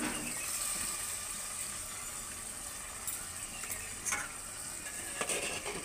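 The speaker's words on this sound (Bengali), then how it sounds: "এবার আমি এঁচড়টা দিয়ে দেবো।" Young jackfruit hitting a pan of sizzling spice paste, a steady frying hiss with a few sharp clinks and scrapes of stirring near the end.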